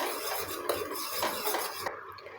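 Coconut oil hair mixture being stirred in a pan, the spoon scraping and clinking against the metal continuously at close range, with a faint bubbling underneath and no voices.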